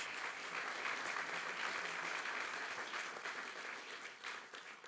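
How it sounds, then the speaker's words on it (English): Conference audience applauding a hydrogen-energy panel, a thick, steady roll of clapping from a hall crowd that swells briefly then fades near the end. "I would like to have a very loud applause for this panel."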